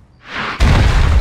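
A loud, heavy boom from a superhero crashing down in a practice landing in a backyard in the animated show Invincible, preceded by a rising whoosh and then a sustained rumbling impact.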